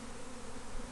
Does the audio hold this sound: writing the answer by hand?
no